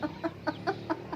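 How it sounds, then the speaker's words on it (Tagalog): A chicken clucks in a quick, even series of six short calls, close by and fairly soft, with no voices. "Ayan ang manok ng tatay ko."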